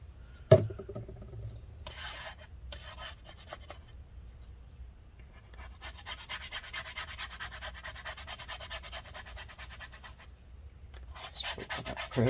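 Residue on a mid-2014 15-inch Retina MacBook Pro A1398, wet with rubbing alcohol, is scraped and rubbed in bursts of close, gritty strokes separated by brief pauses, opening with a sharp tap.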